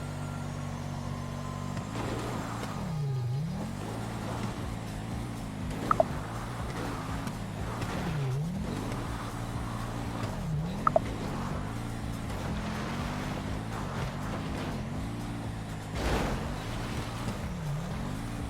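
A car driving in the video game GTA V: a steady engine drone that rises and falls as it revs and shifts, with wind noise and a couple of sharp clicks, no talking.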